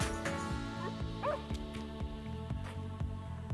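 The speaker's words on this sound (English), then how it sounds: "I got a dog that's barking at him" A Plott hound barks at deer outdoors, a run of sharp, close barks and yips in quick succession.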